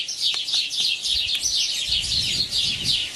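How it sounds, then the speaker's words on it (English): Birds sing outdoors with a steady stream of bright chirps and repeated trilling calls, fairly close and clear, with no talking. "Wow, listen to those birds."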